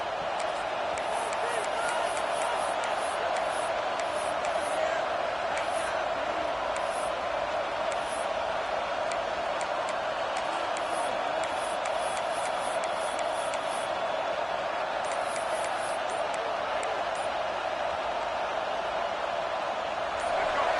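A college football stadium crowd during a late first-half timeout before a fourth down: a continuous, distant roar of many voices with occasional whoops and cheers, steady in level throughout, with a commentator's voice faintly under it.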